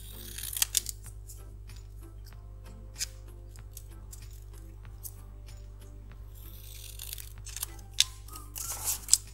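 Scissors snip through paper card in scattered crisp cuts, quiet and close over a steady low hum, with no one talking.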